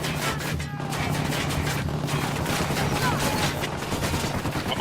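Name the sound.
gunfire in Ghost Recon Wildlands video game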